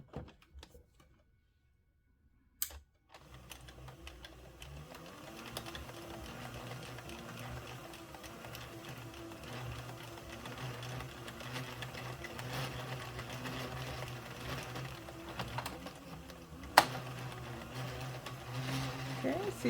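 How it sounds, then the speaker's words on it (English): An Addi 46 circular knitting machine knits Lion Brand Chainette yarn, starting after a brief click into a steady, rapid mechanical clatter that builds slightly and continues throughout, with a voice talking faintly over it. "let's put the machine on it nice and slow and see what it does."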